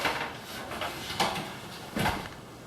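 Sticking sliding shower doors in a 1970s Dallas condo bathroom rumble and bind along their track, with two sharper knocks as the panels catch, close and without talking.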